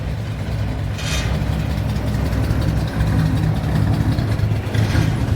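A 1965 Ford Mustang V8 idles roughly and unevenly at close range, a steady low rumble with slight lumpy pulsing throughout.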